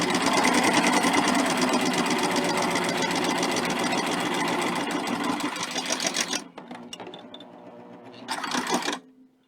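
Sewing machine stitching binding onto a quilt, running loud and steady in a fast mechanical chatter before stopping, then a short final burst after a pause.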